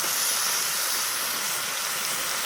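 Water poured into a hot pan of greens and small fish gives a steady, loud hiss of steam, holding constant across the whole moment with no voices.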